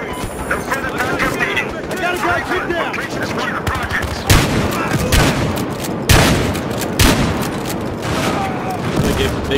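Dense, sustained gunfire from the video game Battlefield Hardline, with rapid bursts and sharper blasts cutting through a constant din of combat noise, heavy impacts near 4 and 6 seconds, and voices shouting over it.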